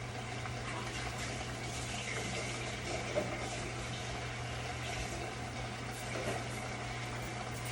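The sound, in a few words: water poured into a measuring cup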